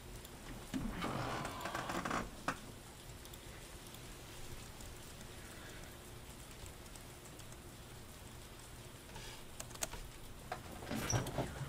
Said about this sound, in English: I'm gonna go walk around in this rain.